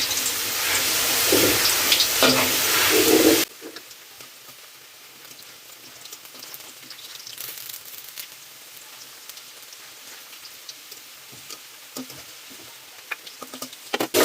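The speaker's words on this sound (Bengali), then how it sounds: "আমি আস্তে আস্তে আলুগুলোকে ভেজে নেব।" New potatoes frying slowly in hot oil give a loud, dense sizzle for about three and a half seconds, then drop abruptly to a faint, sparse crackle with occasional small pops.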